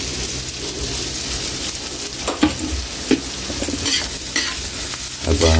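Onion and garlic sauté in melting butter in a pan for mussels in coconut milk, with a loud, continuous close sizzle broken by repeated scraping stirs of a utensil.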